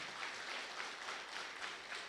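An audience at the Africa Science Week launch event claps in a faint, steady patter of many hands, heard alone without speech.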